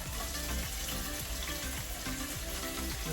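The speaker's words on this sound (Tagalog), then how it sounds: "Golden brown muna natin yung ating luya" Chopped ginger fries in hot oil until golden brown: a steady, even sizzle with soft crackles, close and fairly quiet, with no voices.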